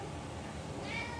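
A house cat gives a single short meow in a kitchen over a steady background hum.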